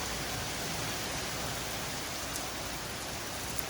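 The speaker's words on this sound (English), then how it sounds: "Getting hammered by rain all of a sudden" Sudden heavy downpour pounding on a Lone Star Grills smoker built from 3/8 inch steel with a 1/2 inch firebox, outdoors; a dense, loud, unbroken hiss of rain fills the whole stretch, with no voices.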